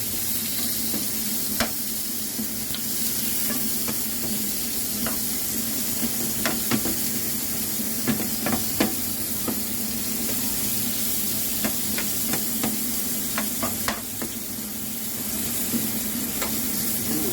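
Onion sautéing in a pan with garlic, a steady sizzle and hiss running throughout, broken by frequent sharp clicks and knocks of a utensil stirring against the pan, close and fairly loud with no talking.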